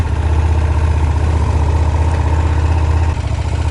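KTM 1290 Super Duke R motorcycle, a 2020 model, idling steadily nearby, a loud continuous low engine rumble with a slight dip near the end.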